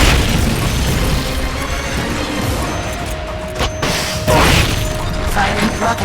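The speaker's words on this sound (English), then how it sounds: "Firing rocket launcher." Rocket launcher fire from a combat mech in Metal Gear Solid Peace Walker: dense, loud booming blasts and bursts over continuous mechanical rumble, with a sharp swell of explosive noise near the end.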